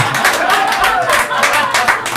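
Scattered audience clapping at a stand-up comedy club, a fairly loud, steady patter of hands filling the room for a couple of seconds, with a few voices and laughter mixed in.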